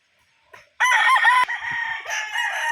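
A Raptor Sweater gamefowl rooster crows loudly and close by, one long harsh cock-a-doodle-doo that breaks briefly and then carries on in a wavering tail, with a faint cluck just before it.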